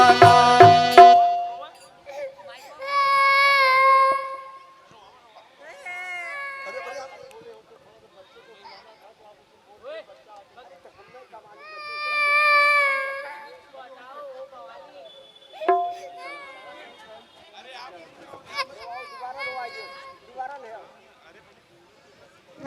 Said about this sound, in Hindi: बच्चों की किलकारी